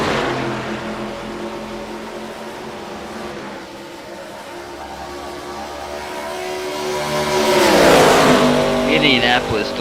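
ARCA race cars racing at Indianapolis, engines droning past with a loud swelling pass around the middle, heard under ongoing commentary.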